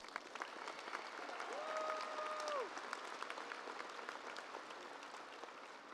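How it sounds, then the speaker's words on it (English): High school graduation crowd applauds the parents, a fairly distant, sustained patter of clapping in a large venue with a brief whistle rising over it. "Let's give them a round of applause."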